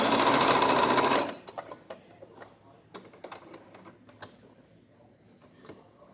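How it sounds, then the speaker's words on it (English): A sewing machine stitches a quarter-inch seam along a pleated fabric face mask, running as a loud, steady buzz for just over a second and then stopping, leaving faint clicks and handling noises. "And then you just sew along a 1/4 inch in, just to keep it in place"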